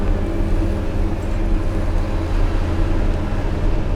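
A forage harvester's engine runs steady and strong while cutting maize, a loud, even low drone with a constant mechanical hum and no break in its rhythm.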